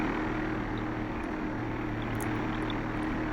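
A propeller aircraft holds level flight at low altitude, its engine and airscrew making a steady, loud, unbroken drone with no voices.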